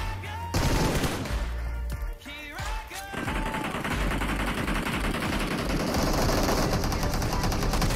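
Gunfire in the mobile battle royale game PUBG Mobile: dense, rapid automatic bursts crackle loudly and continuously across the clip, with a brief lull early on and excited voices beneath.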